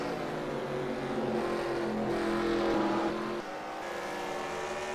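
Race cars circle the Columbia track in a racing video game, a continuous close engine drone with shifting pitch as cars jostle and one pulls alongside another, steady and loud with no talk.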